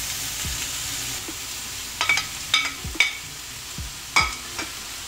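Chicken fajitas sizzle and fry in a pan as onion goes in, a steady hiss with several louder crackling bursts and stirring scrapes scattered through it.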